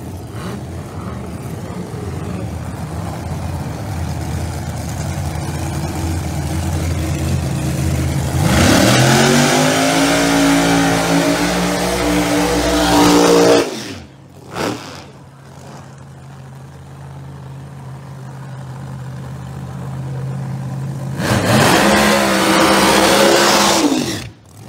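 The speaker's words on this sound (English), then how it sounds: "Beside us, the roots blown Chevrolet Camaro, the loose moose, and Don Tolley in a far lane" Roots-blown Chevrolet Camaro Pro Mod drag cars at an Outlaw Pro Mod qualifying session thunder loudly, with a steady idle rumble breaking into two roaring full-throttle launches, a brief pop between them.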